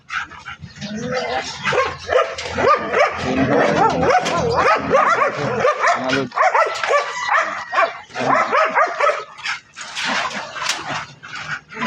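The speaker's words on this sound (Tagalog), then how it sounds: "Maraming aso." A pack of many dogs at a farm barks and yips nonstop, loud and close, with overlapping barks, whimpers and excited yelps, and brief talking mixed in.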